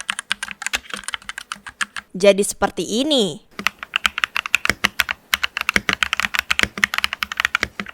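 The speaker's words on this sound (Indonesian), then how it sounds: "Modding keyboard dari suaranya kayak gini" Rapid typing on a modded Daiva SF Max mechanical keyboard, dense close clicks and clacks in an uneven rhythm, broken by a brief bright rattling burst in the middle; a voice speaks briefly near the start.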